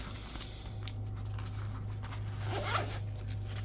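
A CJRB knife's zipper pouch is pulled open in one smooth rasping stroke, close by, over a low steady hum.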